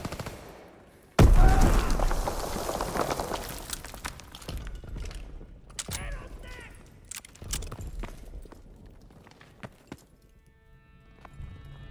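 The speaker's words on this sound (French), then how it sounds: "J'envoie une grenade!" A grenade blast in Call of Duty WWII's D-Day campaign hits suddenly and loud, followed by scattered gunfire cracks and battlefield clatter that slowly fade over several seconds.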